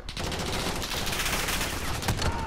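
Several enemies' weapons fire in Call of Duty: Modern Warfare, a dense, loud burst of rapid overlapping shots that rattles on throughout.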